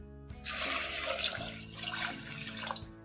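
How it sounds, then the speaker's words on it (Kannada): Water gushes into a pot of lentils, tomatoes and turmeric being readied for sambar, a steady near splashing pour that starts abruptly and continues to the end, alone without talk. "ಇವಾಗ ಇದಕ್ಕೆ ಮುಳುಗೋಷ್ಟು ನೀರು ಹಾಕೊಂಡ್ಬಿಡೋಣ"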